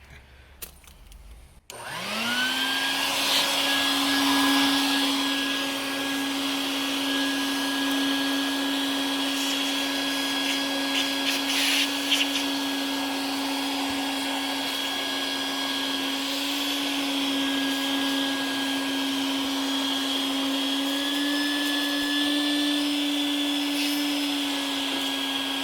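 A shop vacuum switches on and sucks debris out of an old Evinrude outboard motor's carburetor, roaring as one steady, loud, close drone with slight shifts in pitch as the nozzle moves, no voices.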